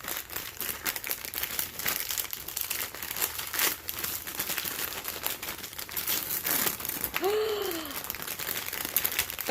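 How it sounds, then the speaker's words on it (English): Yellow paper grass packing filler crinkles and rustles steadily throughout an unboxing, loud and close with continuous crumpling texture and brief quieter voice sounds mixed in. "she's got all this really fun yellow, paper grass, or whatever that stuff is called"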